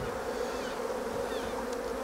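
Honeybees buzz steadily around open hive frames in a brood box, a close, continuous droning hum with a few individual bees flitting past, with no speech.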